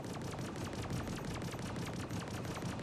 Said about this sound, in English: We're absolutely laying into him with these Gatlings.